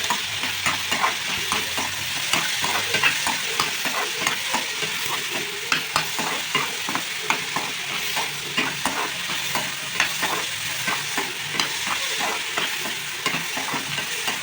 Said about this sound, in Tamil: தக்காளியும் இதில் போட்டு வதக்கணும்.